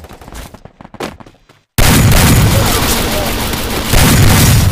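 Shotgun blasts in the battle game Free Fire Max, a few sharp bangs among quieter sounds, then a sudden loud sustained roar of gunfire and explosions that fills the remaining seconds.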